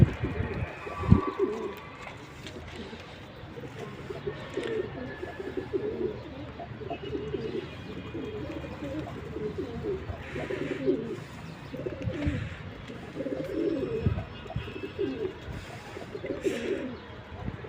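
Pigeons coo steadily in a loft, a chorus of soft, rolling calls repeating over several seconds at close range, with some rustling and small knocks in the background.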